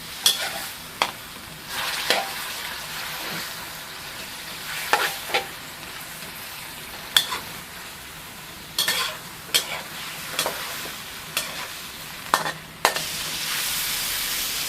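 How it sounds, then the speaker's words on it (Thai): Shrimp simmering with a little water and being stir-fried in a pan, a steady close sizzle broken by repeated scraping stir strokes and small clinks, with no talk. "ใส่น้ำไปนิดหน่อยครับ เคี่ยวแป๊บหนึ่ง"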